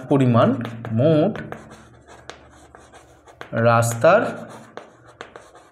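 Writing on a board during a class 5 math lesson makes brief scratchy strokes and light taps, set between two stretches of a person talking.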